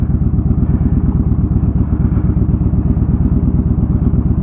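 A wrecked motorcycle's engine runs close up, a loud, steady, rapid thumping beat with a clattery edge that never changes pace, and no one speaking.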